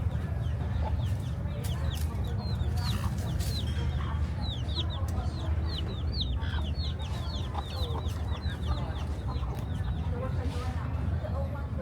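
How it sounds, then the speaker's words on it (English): Chickens in Vietnam cluck repeatedly close by, a busy run of short calls over steady outdoor background noise. "just some little chickens knocking about"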